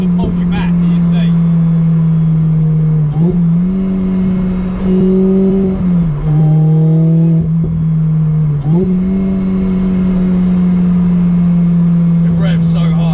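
A car engine revs hard at a high, steady pitch, dipping briefly as gears change, then climbing again; loud and continuous throughout.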